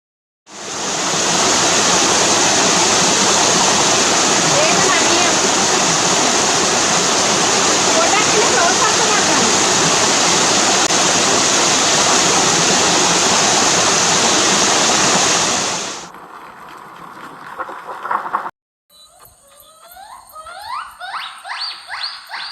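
A rainforest stream bordering a property rushes loudly and steadily for about fifteen seconds, a dense close-up roar of flowing water, then fades out and gives way to quieter rustling and short scraping sounds.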